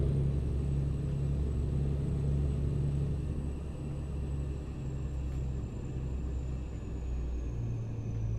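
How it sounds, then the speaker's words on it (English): Truck engine in the Euro Truck Simulator 2 video game, said to sound like a Philippine jeepney: a steady low diesel drone with a faint high whine, continuous and close throughout. "Sound of this truck sounds like it's a jeepney from the Philippines."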